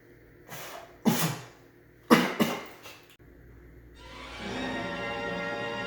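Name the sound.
a person coughing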